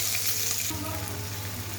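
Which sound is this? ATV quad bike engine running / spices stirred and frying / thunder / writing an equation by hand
spices stirred and frying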